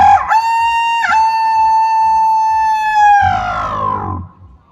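A man at a bird festival loudly imitates a rooster's crow, a long sustained tonal cry with a couple of breaks, trailing off at the end.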